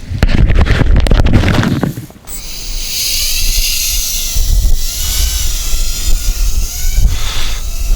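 A DYS X160 micro FPV race drone is flown at full throttle outdoors after an opening burst of noise, then gives a high, whining motor buzz whose pitch rises and falls with the throttle.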